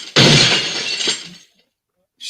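A glass-shattering sound effect bursts out loud and close, with a sharp crash and a crackling spray of shards that fades into silence, before another burst starts at the very end.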